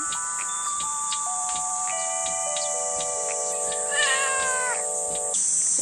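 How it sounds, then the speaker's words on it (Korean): An orange tabby cat at a seaside campsite meows, with a wavering cry standing out over steady held tones, fairly loud and close with no speech. "냥이가 와서 애교를 부리고 있어요."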